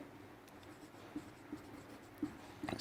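Pen or chalk writing during a Class 10 maths lesson on polynomials, faint scratchy strokes with a few soft taps, quiet room and no talking.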